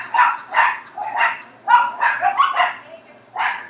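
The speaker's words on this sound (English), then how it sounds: "I apologize for the dogs barking if you can hear them" Several dogs bark repeatedly at close range in quick, uneven bursts, some yips mixed in, with no talking.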